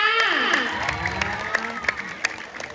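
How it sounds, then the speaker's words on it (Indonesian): Audience applause with cheering at a gathering at Pura Dalem Bebalang temple in Bali, a steady wash of clapping with sharp claps standing out, voices and shouts mixed in over it. "Tepuk tangan buat Narendra."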